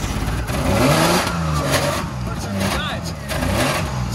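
A Mitsubishi 4x4 engine revving after a hard start, with the note rising and falling through several throttle blips close by. People talk over it the whole time.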